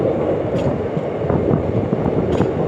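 Ahmedabad–Somnath Intercity Express running steadily, a dense continuous rumble of wheels and carriages with faint rhythmic clatter throughout, loud and close, no voices.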